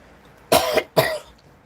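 Two sharp coughs in quick succession, close and fairly loud, with brief quiet before and after.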